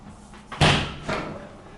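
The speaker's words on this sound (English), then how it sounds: "we're going to check out the freezer on top in this really nice fridge" The top freezer door of a fridge swings open, a soft suction pop and thump followed by a second, gentler rush of sound, close by and with no talking.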